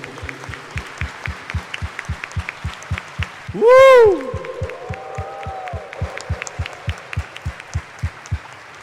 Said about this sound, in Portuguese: Bate uma salva de palmas